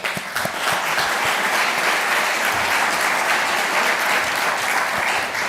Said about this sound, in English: If we could applaud.